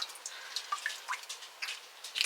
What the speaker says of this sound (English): You can feel the water squeezing out of it for sure.